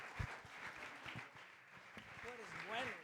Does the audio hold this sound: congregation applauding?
yes